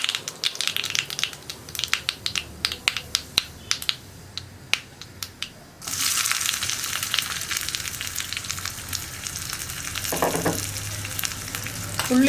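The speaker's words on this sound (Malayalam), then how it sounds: "ഉള്ളി ഒന്ന് കളർ മാറി വരുന്നത് വരെ ഒന്ന് ഇളക്കി കൊടുക്കുക" Thinly sliced onion rings hit hot oil in a pan for a yam masala curry. Sharp clicks of a spoon stirring and scraping come first, then a loud, steady sizzle of frying swells up and continues, close and alone.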